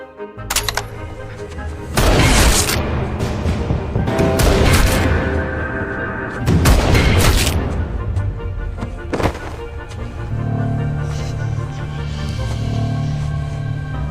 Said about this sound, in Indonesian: Saat itu juga, ia menembak pria itu berkali-kali sampai tiwas.